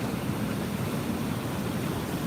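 Strong sea waves churned up by a typhoon roar as a continuous broad wash of surf, distant and steady with no voices.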